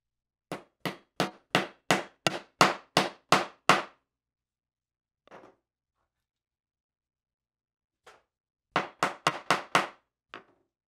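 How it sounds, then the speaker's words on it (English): A rapid series of sharp hammer strikes, about ten in a row, then a couple of isolated taps, and another quick burst of blows near the end, driving a T-nut into a wooden drill press table. "I'm going to hammer the T-nut into place."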